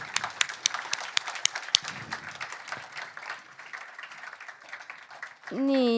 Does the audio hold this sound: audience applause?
yes